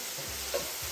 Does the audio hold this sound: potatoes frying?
yes